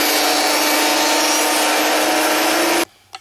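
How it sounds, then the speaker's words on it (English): A wood planer feeding a board for a Native American flute, a loud steady whirring roar that cuts off near the end, followed by a short knock in the quiet. "I'm going to go ahead and send this through the planer."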